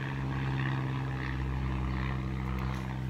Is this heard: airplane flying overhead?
yes